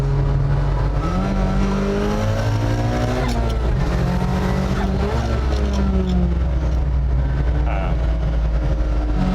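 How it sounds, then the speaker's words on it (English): The engine of a 2020 Volvo P1800 Cyan pulls hard under boost, loud and close, its tone rising and falling through the gears as it revs, over a constant rumble from inside the car. "the engine sounds very efficient"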